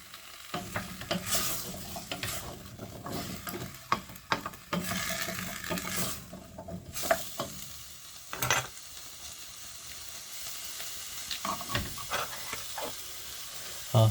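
Chunky vegetable soup with swede being stirred in a pot, quiet scraping and sloshing strokes repeating over a faint simmering hiss.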